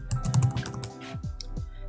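Someone types on a computer keyboard, producing a quiet, uneven string of close clicking keystrokes with brief pauses between them.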